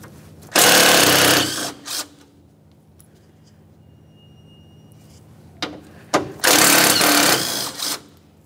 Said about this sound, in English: we're going to remove the two 10mm headed bolts that hold this AC line bracket